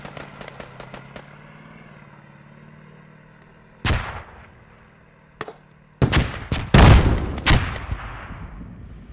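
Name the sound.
RPG explosions and gunfire in a video game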